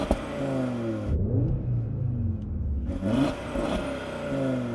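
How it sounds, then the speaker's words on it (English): An Audi RS3 five-cylinder engine revs hard close by, rising and falling through repeated climbs in pitch with a brief lull in the middle, alone with no talk. "Let's have a listen to the Audi because that 5-cylinder is sweet."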